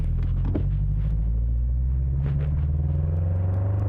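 A drift car in first gear, held at steady throttle, gives a deep, loud engine rumble that stays continuous and close throughout, with no talk over it.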